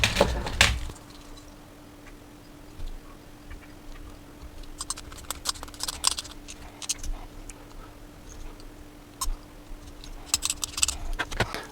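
Trimming and cutting at a Space Wolves miniature model conversion, with scattered small clicks, scrapes and ticks from the hobby tool, quiet and close, plus a steady faint hum underneath and no talking.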